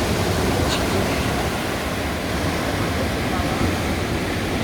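Black Sea surf rolls onto a sandy beach in stormy weather, a loud, continuous roar of breaking waves close to the shore, with wind buffeting throughout.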